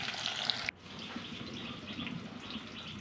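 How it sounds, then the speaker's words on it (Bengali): Water hits frying spices in a pan with a sharp burst of hiss that cuts off abruptly, leaving a softer bubbling simmer that carries on to the end. "এখন আমি মশলার মধ্যে একটু পানি দিয়ে নেব"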